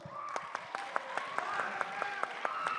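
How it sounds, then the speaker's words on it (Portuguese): Applause from a school audience at a Christian high school talk show, with regular sharp claps rising over a softer crowd clatter for a few seconds. "Aí sim, palmas para o Reuel"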